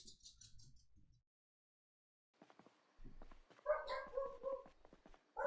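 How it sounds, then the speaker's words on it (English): A dog barks and whimpers in short, yelping bursts, a few sharp calls near the start, a pause, then a louder string of high barks at close range. "If you can hear barking, it's the other one who's like the local sheriff"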